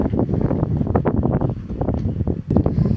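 Strong wind buffets the microphone with a constant low roar and gusty rumble, close and loud throughout, with no voices.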